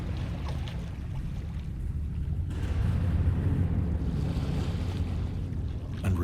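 Water waves lapping at the base of a towering rock in a chasm, a continuous rushing wash that swells midway and stays steady, with a windy, surf-like roar and no voices.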